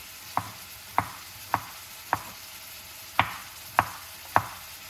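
Tomatoes diced with a knife on a cutting board, seven crisp, evenly spaced chops cutting through the flesh, close and clear with no talking.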